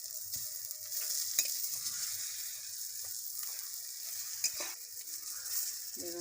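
Eggplant frying in a pan gives a soft, continuous sizzle, fairly quiet and close, with occasional light stirring scrapes and taps.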